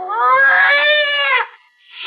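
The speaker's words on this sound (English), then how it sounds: "It was a cat." A scrawny cat aboard a ship yowls as a sound effect in a 1957 radio suspense drama: one long, loud, tonal caterwaul that rises and wavers, then a short gap and the start of another cry.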